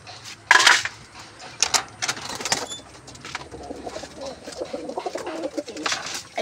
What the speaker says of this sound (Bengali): সব পায়রা চলে আসছে। গম একেবারে দেখলেই চলে আসবে।